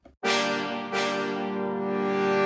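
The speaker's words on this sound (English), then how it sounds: "Tenor trombones." Tenor trombones blast two sustained brass stabs, the second entering about a second after the first and ringing on loud and alone as part of an orchestral brass section.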